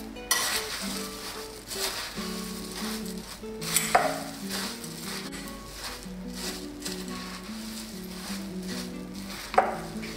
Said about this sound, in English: Chilies, grated ginger, tomatoes, potatoes. I'm going to give it a quick mix.